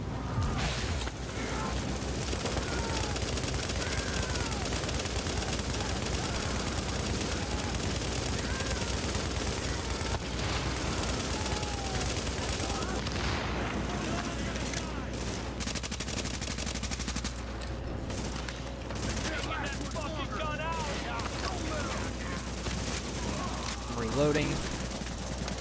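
Rapid gunfire in The Division video game, dense bursts of automatic shots and scattered booms filling the whole stretch at steady loudness, with voices talking over the shooting.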